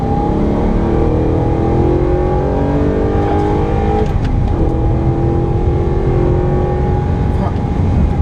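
An Audi R8 engine revs up under acceleration, a loud close mid-pitched roar climbing steadily with a brief shift dip midway before rising again, with someone talking over it.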